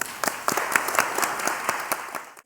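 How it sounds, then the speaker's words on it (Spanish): A small audience gives a brief round of applause, with individual claps clearly distinguishable in an uneven patter that runs for about two seconds and then stops. "Un aplauso, por favor."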